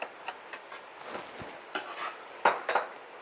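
Spatula scraping and tapping in a pan while tomato sauce is stirred, with irregular soft clinks and knocks and faint sizzling, close and fairly quiet.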